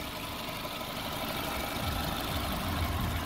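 A 2003 Honda Fit Aria with a 1.5-litre engine idles under an open hood, giving a steady, even mechanical hum with no speech.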